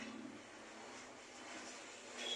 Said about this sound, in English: we will see planes coming in from this spot because we are in close proximity to the airport